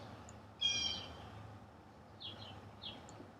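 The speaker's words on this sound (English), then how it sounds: "And the air is filled with birdsong." A few brief bird calls sound faintly over a quiet outdoor background: one clear chirping phrase, then two softer calls a moment later.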